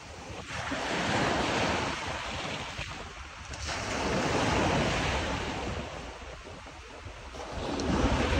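Sea waves roll steadily onto the shore at Rameshwaram, the surf swelling and fading in a continuous wash, with wind noise over the microphone.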